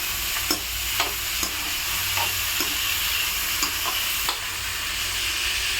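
Peanuts are stir-fried with sautéed tomatoes in a pan, a steady sizzle punctuated by regular light scraping strokes of the spatula about every half second, close and unaccompanied by speech.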